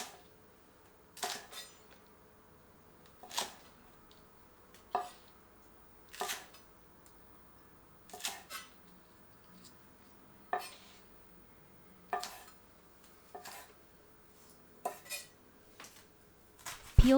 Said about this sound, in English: Cut to remove root end of green onions, then cut into 3 to 4 centimeter lengths.